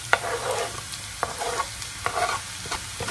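Onion sizzles steadily with potatoes in a hot pan while a utensil scrapes and stirs it in repeated strokes, close and fairly quiet.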